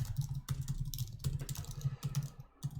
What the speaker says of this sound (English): Oh, my typing.